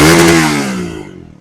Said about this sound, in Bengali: সাউন্ডের আপনার সাউন্ডটা একটু শোনায় আপনাদের।